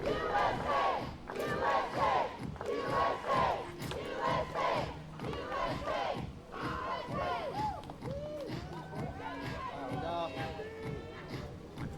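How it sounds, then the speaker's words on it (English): A home crowd of US supporters shouting and cheering at a junior recurve archery final, a busy wash of voices with sharp yells and rising calls, swelling and shifting across the stretch. "Bit of US cheering going on in the background, I'm sure we can all hear."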